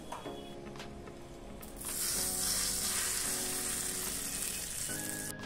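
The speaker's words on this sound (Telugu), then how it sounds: "ఇప్పుడు మనం స్టవ్ ఆఫ్ చేసి ఈ పోపుని పచ్చడిలో వేసుకుందాం" Hot oil tempering poured into sorrel and tomato chutney bursts into a loud, sustained hiss that swells suddenly and then settles into a steady sizzle, close by.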